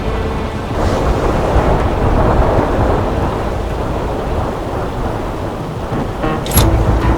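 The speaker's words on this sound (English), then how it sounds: "storm sounds something fierce outside" A thunderstorm rages outside in The American Dream video game, with heavy steady rain and deep rolling thunder, loud and continuous, ending in a sharper crack near the close.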